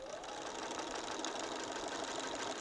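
Sewing machine quilting straight lines on a vest, a steady, close, continuous mechanical whirr with rapid needle chatter running throughout at an even pace.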